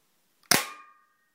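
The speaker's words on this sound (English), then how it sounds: "so now let's fire the Colt." Single sharp crack of an airsoft Colt firing, close and loud, with a brief metallic ring trailing off into silence.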